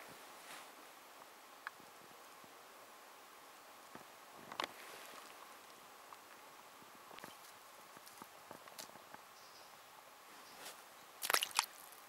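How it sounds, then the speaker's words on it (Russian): Unfrozen stream in a winter forest at above-freezing temperature, trickling with a faint, steady, quiet wash, broken by scattered soft crunches and squishes like steps in wet snow. "Течет себе тихонько, течет."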